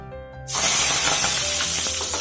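Curry leaves hit hot oil with a sudden loud sizzle that jumps in and keeps hissing and crackling steadily.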